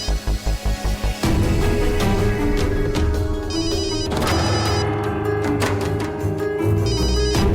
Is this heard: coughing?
no